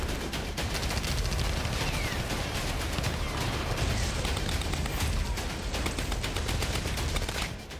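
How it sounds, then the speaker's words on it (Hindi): Dense battlefield gunfire in snowy desert combat, a loud, continuous clatter of rapid machine-gun bursts and overlapping shots with a heavy rumbling undertone, sustained throughout without pause. "मशीन गन से गोलियां बरसने लगी।"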